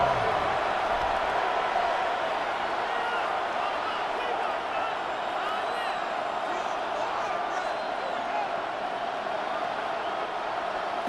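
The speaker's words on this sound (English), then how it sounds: "Crowd on their feet for 3rd and 4." Stadium crowd in a Madden 26 simulation of Lions vs Ravens, Week 3, roaring steadily as fans stand for a late third down, a dense, sustained wash of cheering that holds loud throughout with no clear breaks.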